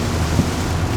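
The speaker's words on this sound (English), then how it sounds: "Currently it is raining, misty." Steady rain falls on a misty mountain, a dense hiss of drops mixed with low wind rumble, continuous and close, with a brief soft thump near the middle and no voices.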